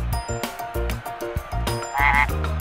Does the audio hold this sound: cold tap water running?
no